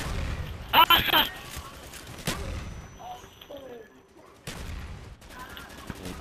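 Bursts of gunfire and impacts in the Black Ops first-person shooter video game, including a loud cluster of rapid shots early on and scattered lighter shots later, with game ambience in between.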